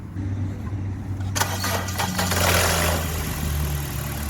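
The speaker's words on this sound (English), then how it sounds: "so now we're going to start the car and run it for at least 50 minutes to 1 hour" A BMW 1 Series with a blown head gasket cranks briefly and fires up, then settles into a loud, steady idle close by.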